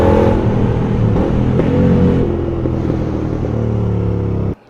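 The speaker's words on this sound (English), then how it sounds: "there's a lovely burbly sound during deceleration at very low speed" Royal Enfield GT 650 with a Mity Mike Customs exhaust burbles as it decelerates at very low speed, a loud, close, throbbing engine rumble that fades steadily before cutting off abruptly.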